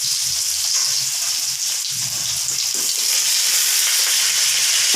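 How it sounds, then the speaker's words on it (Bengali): Chopped tomato frying in hot oil in a pan, giving a steady, close crackling sizzle with faint stirring scrapes and no voices throughout. "এবার আমি টমেটোটা দিচ্ছি"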